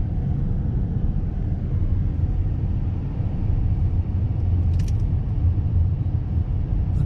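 Steady low road rumble from inside a car driving along the Route 17A main street through a small New York town, continuous and even with no talk.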